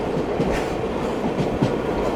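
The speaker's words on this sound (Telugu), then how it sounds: "ప్లాట్ఫామ్ నెంబర్ 2కి అయితే వచ్చింది మన ట్రైన్" An express train pulls in at platform 2 of Kacheguda railway station, wheels clattering in a steady rhythm over the rails, loud and close and continuous, with no talk.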